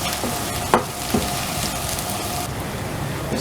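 Garlic ginger paste fries in a pan while being stirred, a steady close sizzle with a few spoon scrapes against the pan.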